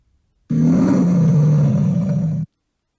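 A lion's roar, one loud, sustained, deep growling bellow lasting about two seconds, starting abruptly after silence and cutting off cleanly.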